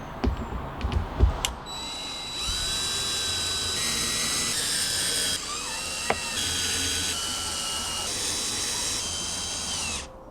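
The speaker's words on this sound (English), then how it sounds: "we'll go ahead and screw all these screws down" A power drill drives screws down into a plate set on butyl tape while a cellular signal booster is mounted on an RV, with several sustained, loud, whining bursts that rise in pitch, each ending in a short pause.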